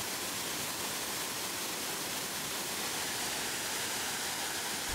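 A river flows in a constant dense rush, loud and unbroken, like close turbulent water with no talking and no other sounds.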